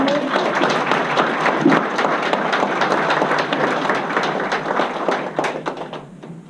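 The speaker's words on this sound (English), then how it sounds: "Let's give a big round of applause for our musicians today." Wedding guests on an October day give the musicians a big round of applause: dense, close clapping that holds steady for several seconds, then thins out at the end.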